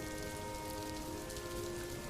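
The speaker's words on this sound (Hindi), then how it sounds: "बारिश और तेज होने लगी थी" Heavy rain falling steadily, a dense, continuous hiss of drops hitting surfaces, loud and even for the whole stretch with no voices.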